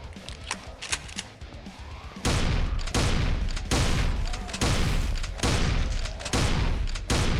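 Rapid, heavy shotgun blasts from a zombie-fighting video game, Blood Waves, booming one after another at close range, loud and dense, after a quieter stretch of lighter game sounds.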